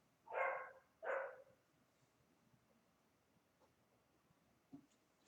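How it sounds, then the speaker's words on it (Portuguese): A mixed-breed dog barks twice in two short, loud bursts close by, followed by quiet background with a faint knock near the end. "vira-lata latindo ali"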